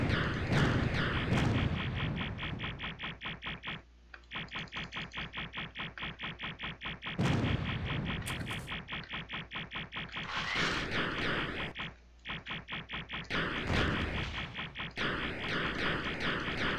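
Missile launches and gunfire explosions in the Air Assault 2 combat flight game, a dense, loud, rapid rattling barrage of blasts with repeated brief pauses, continuous throughout with no speech.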